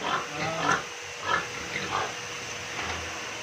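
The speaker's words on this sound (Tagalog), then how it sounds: "Marami pong baboy ni Jason." Pigs grunt in short repeated bursts, several snorts spaced about half a second apart, fairly close with some farmyard background noise, in Lobo, Batangas, Philippines.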